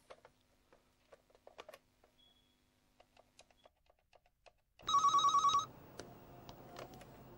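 An indoor telephone rings in a short burst of bright electronic trilling after quiet scattered clicks and small sounds, loud and close, with no talk.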